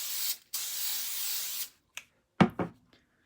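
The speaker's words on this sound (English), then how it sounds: "Let me spray these." Two long, steady hissing sprays from an aerosol can of hair product, followed by a few short rustles and taps.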